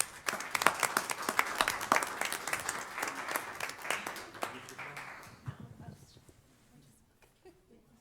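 A round of applause in a county commissioners court meeting, sharp scattered claps building then thinning out, fading to near silence with a few last isolated claps toward the end.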